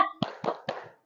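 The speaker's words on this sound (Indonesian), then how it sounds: "kita tepuk semangat" Group spirit clap (tepuk semangat) at a school session, three sharp rhythmic clap bursts evenly spaced, fairly close and moderately loud, with no talk over them.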